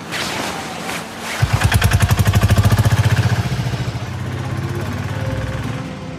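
A motorcycle engine idling close by, starting with a sudden, rapid, even chugging pulse that later settles into a slightly softer steady putter, with no one talking over it.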